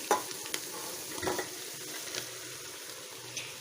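Onions and steamed rice grits stirred together in a frying pan while making buttermilk upma, giving a soft continuous scraping sizzle with a few sharper spatula knocks, close and fairly quiet.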